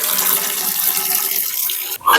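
Rose water, kewra water and milk poured into biryani, a steady close splashing stream of liquid that stops abruptly near the end.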